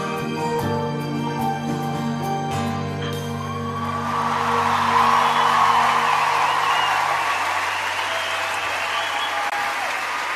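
Concert audience at a show bursts into sustained, dense applause as the music fades out, swelling loud and steady for several seconds and carrying on to the end.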